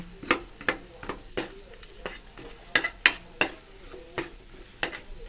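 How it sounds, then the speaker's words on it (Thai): A spoon or ladle stirs a pot of Thai braised pork stew as the sugar melts, giving a steady run of about a dozen sharp scraping clinks against a soft sizzling simmer. "เคี่ยวให้น้ำตาลละลาย"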